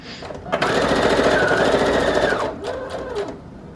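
A sewing machine runs a steady straight stitch for a couple of seconds, loud and close, then slows and fades into quieter mechanical clicks near the end.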